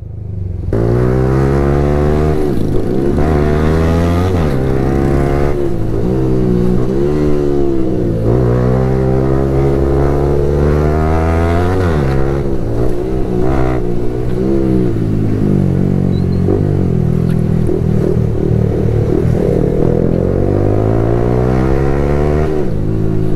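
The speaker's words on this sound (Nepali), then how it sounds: "ट्रिपल लोड हामी होन्डाको बाइकमा" A Honda motorcycle carrying three riders revs and accelerates repeatedly, its engine note rising and falling in loud, close passes of shifting gears over rushing wind.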